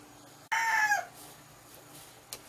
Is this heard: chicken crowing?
yes